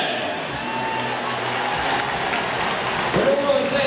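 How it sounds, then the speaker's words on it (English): Crowd applause for the LSU Golden Band marching band, a broad steady clapping wash from a large outdoor audience, with a voice and a brief tonal sound surfacing near the end. "how about another round of applause for the LSU Marching Band?"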